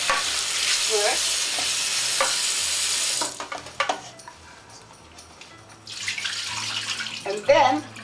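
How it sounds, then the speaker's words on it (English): Cold tap water runs into a kitchen bowl as turkey drumsticks are rinsed, a steady splashing rush for about three seconds, then quieter handling sounds and dripping before the flow resumes near the end. "Give them a quick rinse with cold water"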